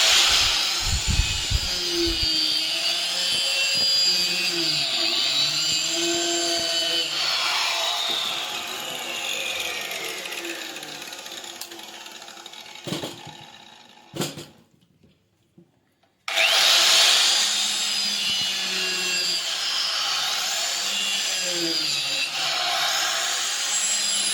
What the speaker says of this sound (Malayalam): ഈ ഒരു മെഷീൻ വെച്ചിട്ട് നമ്മൾ കപ്പയുടെ കോല് എടുത്തിട്ട് മുറിക്കാൻ പോകണം